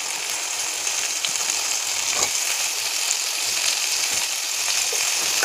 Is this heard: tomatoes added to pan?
yes